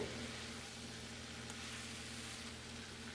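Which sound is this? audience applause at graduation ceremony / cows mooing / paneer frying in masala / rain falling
paneer frying in masala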